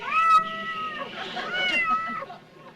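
A person drawing out a long, wavering meow in imitation of a cat, close and clear, rising and falling in pitch.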